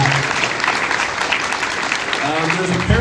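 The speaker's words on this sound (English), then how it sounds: "Please, a round of applause for the 5th and 6th grade." Steady audience applause fills the room at a sixth grade farewell ceremony, a dense patter of many hands clapping at moderate distance throughout.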